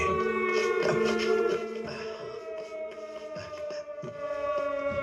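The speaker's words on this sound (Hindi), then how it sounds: "उस सायरन का मतलब सावधान होना है।" A warning siren sounds in a film scene, holding a steady, sustained wailing tone with layered harmonics, fairly loud and continuous, with a few soft knocks and background effects beneath it.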